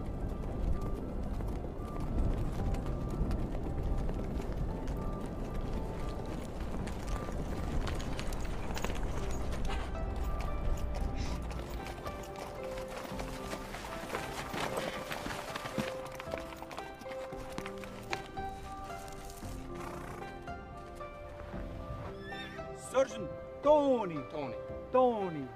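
Horse hooves clip-clopping at a steady run, with a gelding carrying a rider, heard through layered background sounds and a busy mix; a brief whinny may come through near the end.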